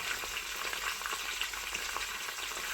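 Small onions and curry leaves fry in hot oil for a chicken curry, giving a dense, even crackling sizzle that carries steadily throughout at close range with no talking over it.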